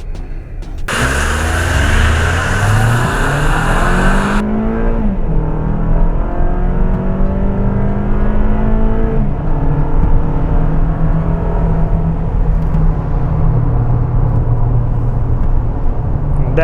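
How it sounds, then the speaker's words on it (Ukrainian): A Toyota RAV4 with all-wheel drive and winter tyres accelerates hard from 0 to 100 km/h on a wet road, its engine note climbing steadily through several gear changes, loud and continuous from inside the cabin. "а зараз ми замірюємо динаміку розгону від 0 до 100"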